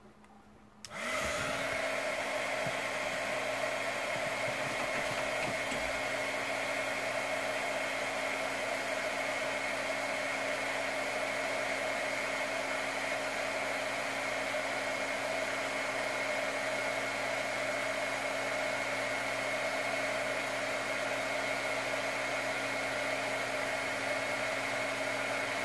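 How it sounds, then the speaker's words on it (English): Heat gun blowing hot air at a hot glue stick switches on after a moment and then runs as a loud, steady whirring hum with a constant high whine for over twenty seconds, alone. "So I'm going to use my heat gun again and see if this works."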